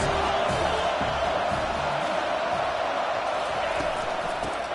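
A college football stadium crowd roars steadily ahead of a fourth-down play, a dense, unbroken wall of loud noise with a commentator talking over it.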